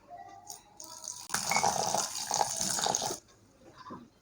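Water is poured into an oats batter, a close trickling splash lasting about two seconds, set between quiet gaps with faint clinks.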